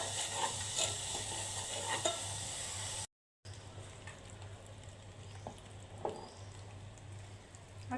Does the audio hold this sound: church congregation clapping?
no